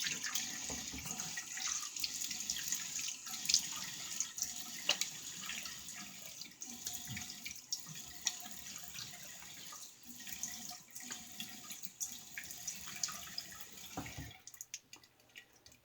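A faucet runs to rinse a straight razor in a sink, a faint steady stream of water with light splashing that continues for most of the time before cutting off near the end.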